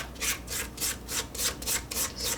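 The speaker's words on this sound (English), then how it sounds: "scrape the bowl so again everything will get nicely mixed in together well." A spatula scrapes cookie dough around the sides of a mixing bowl, giving about eight quick, even rasping strokes up close with no voices.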